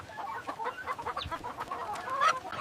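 Chickens cluck steadily at a chicken farm, a dense flock chattering close by with overlapping short calls and a brief louder squawk near the end, with no talking.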